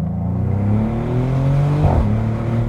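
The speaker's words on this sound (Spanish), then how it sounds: "A ver si vamos a una rectilla y le meto un poquito de gas para que veáis la pedorreta que se tira" A Maserati GranCabrio Trofeo with the Nettuno engine accelerates under load, a steady rising engine drone heard from inside, briefly dipping at a gear change around two seconds with a short burble before climbing again, no talking.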